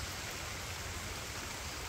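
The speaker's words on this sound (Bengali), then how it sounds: "বৃষ্টি তো মোটামুটি ভালো বৃষ্টি হয়েছে" Rain falls steadily in a Bangladeshi village, a soft, even hiss with no breaks and no voices.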